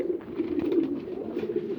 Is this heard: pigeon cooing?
yes